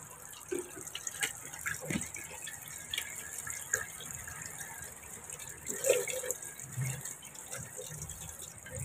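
Water runs from a tap while fish is rinsed, with irregular splashes and clinks over a quiet, steady flow.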